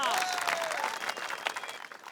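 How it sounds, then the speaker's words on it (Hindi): Crowd applause at an outdoor wrestling prize event, a dense burst of clapping from many hands that carries over a voice and tapers slightly toward the end. "तालियां"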